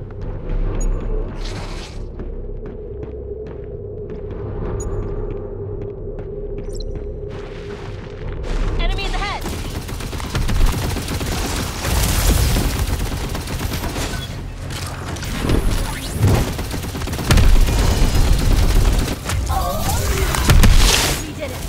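Rifle gunfire and heavy explosive booms in the video game Earth Revival, a quiet opening giving way to dense bursts of shots and blasts that build in loudness, with voices talking amid the combat.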